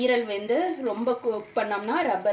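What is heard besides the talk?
No everyday noise stands out behind the speech.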